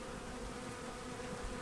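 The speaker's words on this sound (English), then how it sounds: "it's always nice seeing the bees" Honey bees buzz steadily at an open hive in Kentucky, a dense, close, continuous hum of many wings.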